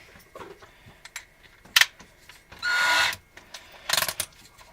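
A cordless drill whirs in a single short burst of about half a second, spinning a case trimmer for converting .223/5.56 brass to .300 Blackout, surrounded by clicks and handling clatter nearby.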